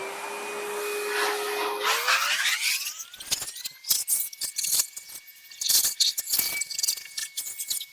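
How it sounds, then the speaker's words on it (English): Inside a bathroom, a vacuum cleaner whines up in pitch as it sucks debris out of a sink, then rattles with crackling, clattering bits of grit rushing up the hose, loud and close. "we're gonna vacuum out this stuff so that it doesn't go into this drain"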